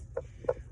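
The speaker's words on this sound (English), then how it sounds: "we do have one chicken in here" Two short, soft clucks from a single chicken, close by and quiet, spaced about a third of a second apart.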